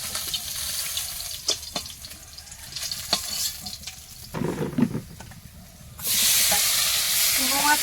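Food sizzles and crackles in a pan with stirring clatter, the frying hiss growing louder and steadier toward the end.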